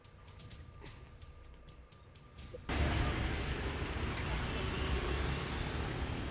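Dense roadway noise from a traffic jam of tourist vehicles, quieter at first and then suddenly louder and broadband, with a steady wash of engines and tyres.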